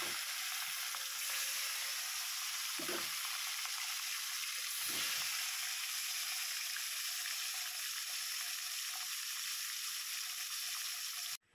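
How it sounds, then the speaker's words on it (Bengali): Potatoes fry in oil left over from frying fish, a steady bright sizzle throughout with a couple of soft stirring scrapes and no talking. "মাছ ভাজার তেলেই ছেড়ে দিয়েছি মাছের আলু, এগুলো লাল লাল করে ভেজে নেব"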